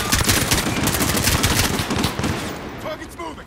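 Dense automatic gunfire from Call of Duty: Modern Warfare, rapid overlapping bursts loud and close, thinning out toward the end with distant game ambience.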